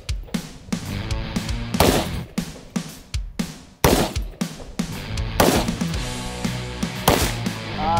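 Gunshots fired one after another into a ballistic glass panel during a keyhole test sound as sharp, loud cracks in an irregular sequence, each with a ringing, resonant tail.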